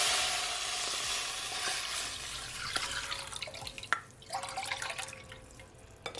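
Stir-fry sauce sizzles and bubbles in a hot pan as it thickens, a close, dense hiss with occasional pops and scraping stirs, without talk.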